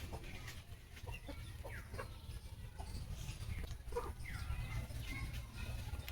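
Chickens roam outdoors after rain, giving repeated soft clucks and short calls from several birds at varying distances, irregular and moderately quiet over a low ambient background.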